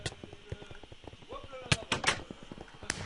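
Fireworks go off in a zombie video game when a human character is killed: a quick series of sharp, loud bursts mixed with busy game sounds.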